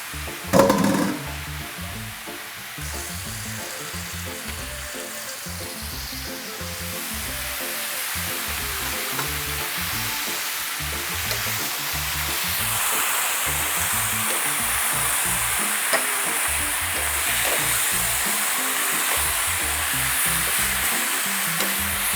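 Jamaican fricassee frying in oil in a pot gives a steady, close sizzling hiss that builds slightly over about twenty seconds, with a brief clatter near the start and no talking.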